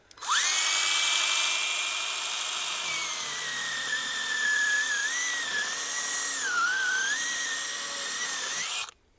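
A cordless mini chainsaw cuts through wood with a loud, sustained high whine that wavers and dips in pitch under load for about eight seconds, then stops abruptly.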